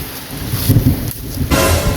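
Steady rain hiss with low rumbling, a deeper roll of thunder swelling midway, and heavier wind-driven rain surging near the end.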